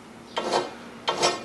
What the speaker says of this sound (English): So I like to kind of file those off before I do any more work with them.